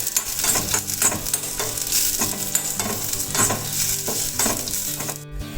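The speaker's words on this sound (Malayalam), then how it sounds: "ഇനി അതിലേക്ക് വറ്റൽമുളക് ഇട്ട് നന്നായി വഴറ്റിയെടുക്കുക." Dried red chillies are stirred and sautéed in hot oil with shallots and curry leaves for a Kerala-style fish curry, giving a loud continuous sizzle broken by repeated scraping stirs, with music playing underneath.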